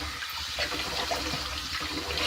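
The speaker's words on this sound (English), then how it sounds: "And I'm going to do a cold water rinse now." Cold water pours steadily from a bathroom tap for a post-shave rinse: a close, continuous rushing flow with no pauses.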